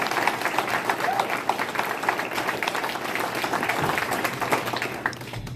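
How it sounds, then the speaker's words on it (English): Applause from the audience at a wrestling hall of fame ceremony: dense, steady clapping that carries on through the whole stretch at an even level, with a little crowd noise mixed in. "So let's give him one more round of applause."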